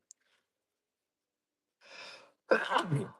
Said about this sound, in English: There's a sneeze in this dusty room.